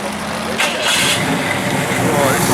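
A custom car engine cranks and catches, then settles into a rough mid-pitched idle with a few revs, close and loud, with people talking over it at a car meet.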